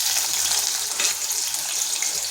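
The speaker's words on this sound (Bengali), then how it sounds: "দিয়ে করে কড়াইতে ওই তেলের মধ্যেই দিয়ে দিচ্ছি।" Squeezed bitter gourd slices frying in hot oil in a kadai, a loud, steady, dense sizzle that runs throughout with no talking.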